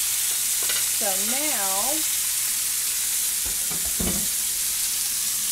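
Mushroom steaks sear in a hot pan for parmesan mushroom steaks, giving a steady, close sizzle and fry hiss throughout, with a brief voice speaking near the start.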